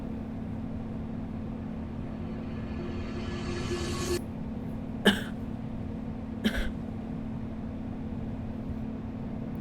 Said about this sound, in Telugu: కంటిన్యూ దగ్గుతూనే ఉన్నావు